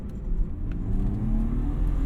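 A BMW E36 328i accelerates from a standstill in second gear, its engine droning steadily and building, heard up close from inside the car with no talking.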